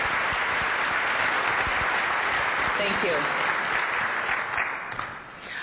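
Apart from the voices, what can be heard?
round of applause at a trade conference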